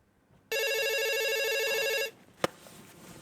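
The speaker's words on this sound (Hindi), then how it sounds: "फोन फोन फोन किसका है? किसका फोन है?" An old-style telephone bell rings in one steady, continuous burst for about a second and a half, then stops, followed by a single sharp click.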